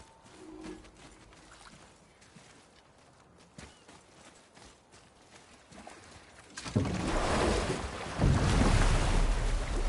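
A boat being rowed across ocean water in the God of War video game, with quiet water lapping at first, then a sudden loud surge of wind and crashing waves.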